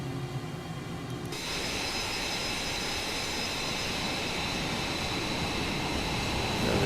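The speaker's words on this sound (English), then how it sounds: "So that's the engine is started." A Top Mach Studios F-22A jet engine running in a flight simulator, a steady loud broadband roar that settles in after a quieter start and holds constant, swelling slightly at the end.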